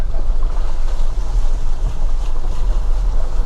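A Jeep rolls through a shallow water hollow on a mountain trail, giving a continuous rumbling wash of splashing water and engine drone under heavy wind buffeting.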